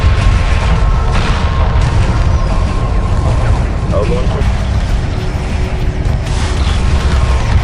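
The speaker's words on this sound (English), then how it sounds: "Resource collector taking enemy fire. I'm taking hits here." Loud booming explosions of enemy fire striking ships in the space strategy game Homeworld 2, a continuous heavy rumble with a mechanical clatter and speech over it.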